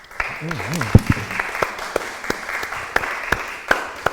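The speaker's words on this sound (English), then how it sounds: "I want to give a round of applause to Mayor Medlock." Scattered audience applause at a community event for veterans, a thin run of distinct claps in a loose rhythm, with a speaker's voice talking over the start.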